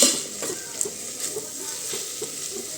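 Ginger garlic paste is stirred into a sizzling mixed vegetable dish for Makar Sankranti, soft spoon scrapes and clinks against the pan over a low, steady frying hiss.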